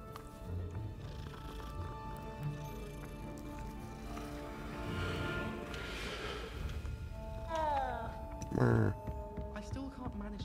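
Cat in the video game Hogwarts Legacy gives a short meow near the end, brief and rising, over steady game music and ambience, with a voice talking through much of the passage.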